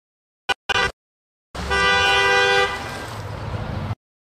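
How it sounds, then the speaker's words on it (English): A car horn sound effect used as a test cut for an audio crossfade: two short toots, then a sustained honk of about two and a half seconds, loud and alone with no talk. "I cut this by a car horn sound to hear how it works"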